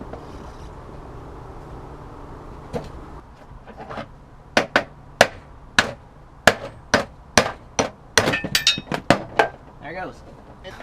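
A hammer knocks steering rack bushings out of a Ford Fiesta ST with a socket, landing a quick series of sharp metallic blows that grow faster and close together after a quieter stretch of handling noise and talk.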